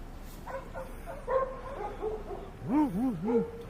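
A dog barks and yips in a run of rising, whimpering calls, with a few higher howl-like bursts near the end, moderately close amid faint background noise.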